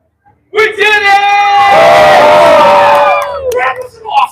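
A loud crowd at a live Halloween event at Disney screams and cheers in one sustained roar, whoops and yells rising and holding for a few seconds before breaking into scattered shouts.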